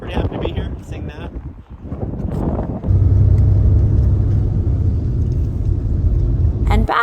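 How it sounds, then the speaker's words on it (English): Traffic rumbles along a major road near Stonehenge, starting under a voice and then settling into a loud, steady roar of passing vehicles with wind buffeting the microphone. "There's a major road here with some traffic."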